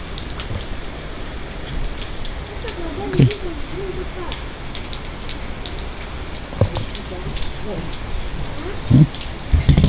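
Steady rain falls and patters on surfaces outdoors beneath a dark sky, a dense continuous hiss with scattered louder drops, while a few voices talk briefly in the background.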